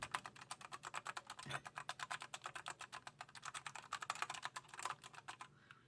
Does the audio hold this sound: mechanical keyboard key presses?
yes